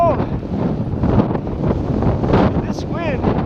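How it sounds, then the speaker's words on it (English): Strong wind buffets the microphone in gusty, rumbling bursts outdoors. "And this wind is not helping things out."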